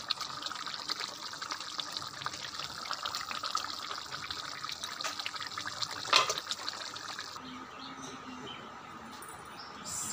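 Mustard hilsa fish curry gravy poured in a village kitchen, heard as a steady, moderately loud liquid rush with one brief sharper splash near the end.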